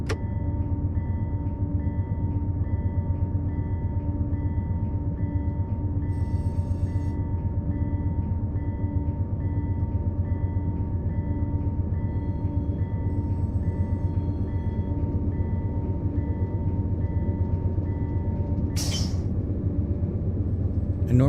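Passenger train running through Albany in the Run8 simulator on the Adirondack service, a steady low rumble with constant tonal hum and rhythmic rail clatter throughout, plus a short bright hiss or horn burst near the end.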